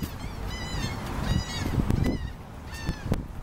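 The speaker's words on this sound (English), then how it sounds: "Y'all see them birds, y'all? They flying." Flying geese honk repeatedly in loud, nasal calls that come in bursts over an outdoor walk, with rustling and low background noise between them.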